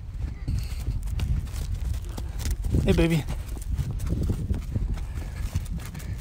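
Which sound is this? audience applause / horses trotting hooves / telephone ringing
horses trotting hooves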